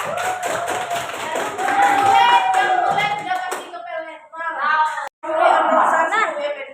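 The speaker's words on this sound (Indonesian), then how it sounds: "Tepuk tangan untuk Ira." A class of students claps briefly in a classroom, mixed with voices and some laughter, with a short pause before more clapping.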